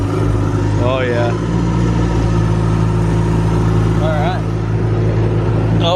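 A Caterpillar D5 bulldozer's diesel engine runs steadily at close range, a loud low rumble that holds throughout while people talk over it.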